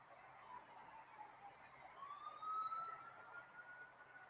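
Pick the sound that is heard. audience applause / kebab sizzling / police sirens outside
police sirens outside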